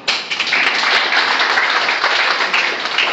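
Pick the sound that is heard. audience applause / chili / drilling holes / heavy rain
audience applause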